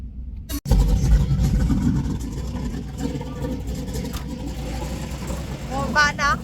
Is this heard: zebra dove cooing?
no